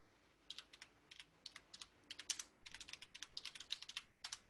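Soft clicking of keys on a computer keyboard, typed in quick irregular bursts with short pauses, quiet and close.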